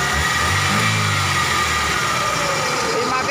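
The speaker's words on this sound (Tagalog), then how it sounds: "umaandar po yan galing pa sa tubig yan maandar po yung makina natin" A Toyota car's engine idles steadily after being driven through water, a continuous low rumble with a faint mechanical whine and no speech.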